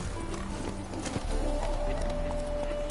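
Hooves of Roach, Geralt's horse in The Witcher 3, clip-clop steadily and close up under low game ambience, with a brief whinny-like tone partway through.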